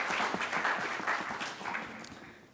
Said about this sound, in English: we'll give it another round of applause